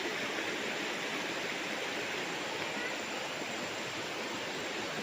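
A river runs beside a farm lot in Liliw, Laguna, giving off a constant broadband rush of flowing water, loud and unbroken, with no clear talk over it.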